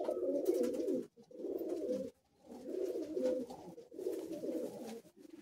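Close cooing from Madrasi high flying pigeons in a Kolkata loft comes in four rolling bursts separated by short pauses, each a layered, throaty murmur from several birds.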